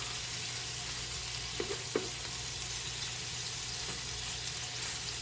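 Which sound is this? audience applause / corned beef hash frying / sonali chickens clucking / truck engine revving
corned beef hash frying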